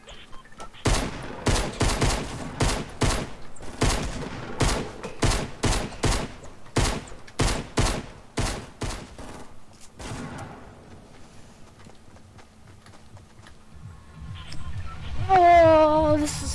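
Rapid bursts of gunfire from the Fortnite video game crack out in a quick series for about ten seconds, then fade as a voice talks faintly and a rising electronic tone follows.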